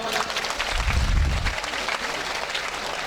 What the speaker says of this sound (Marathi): मोठ्यानं टाळ्या वाजून